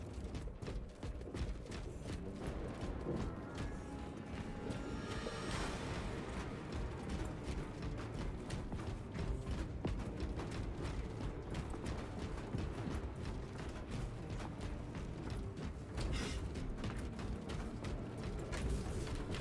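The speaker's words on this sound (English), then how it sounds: "This elevator will take us to the bridge." A lift carries players up toward the bridge in Space Marine 2, giving a steady mechanical grinding and rumbling ride with faint rattling and clanking layered throughout, continuous and fairly quiet.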